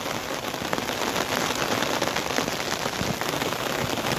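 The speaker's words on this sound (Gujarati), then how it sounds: "જોયામાં બેટલું વરસાદ થોડોક ધીમો પડ્યો છે હવે" Steady rain falls during a monsoon day in the Gir forest countryside, a dense, even patter of drops hitting surfaces that holds at a constant level throughout, with no voices.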